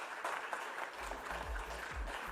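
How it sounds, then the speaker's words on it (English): A conference audience at a real-estate finance conclave gives a guest speaker a steady round of applause, a dense wash of many hands clapping at moderate distance, with low rumbling thumps underneath. "Can we have a big round of applause for Shri Irfan A."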